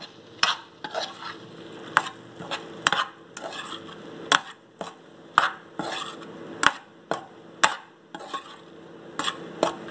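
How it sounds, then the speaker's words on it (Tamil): Idli pieces tossed with garlic podi in a hot pan, a spatula scraping and clacking against the metal in quick repeated strokes over a soft sizzle of oil. Close and loud, with no speech. "நல்லா கிளறி விட்டுருங்க."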